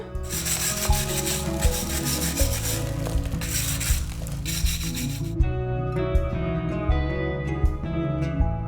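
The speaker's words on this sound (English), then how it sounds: "Just scrub like your life depends on it." Steady, vigorous wire-brush scrubbing on the stone wall of a tiny stone house under renovation, a loud continuous close rasp with regular stroke pulses that thins to lighter, sparser scraping toward the end.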